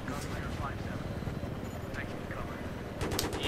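A helicopter in the video game Battlefield 3, set in a Vietnam jungle co-op mission, gives a steady, loud rotor and engine drone throughout, with voices talking over it and a brief louder swell near the end.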